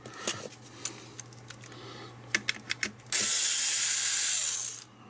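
Screws being undone from the case of a ZX Spectrum +3 computer, with a few faint clicks and small ticks followed by a steady whirring ratchet of a screwdriver running for about two seconds at close range.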